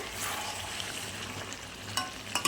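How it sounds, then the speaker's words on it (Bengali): Chicken being sautéed and reduced in a pan for a Bengali home-cooked dish, with a steady low sizzle and a few sharp scraping stirs near the end. "তো চিকেনটা মোটামুটি আমার অনেকটাই কষে গেছে।"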